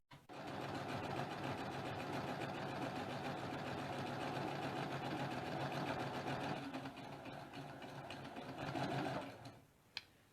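A sewing machine chain-pieces quilt squares of half-square triangles, running in one continuous steady hum for about nine seconds before stopping with a faint click.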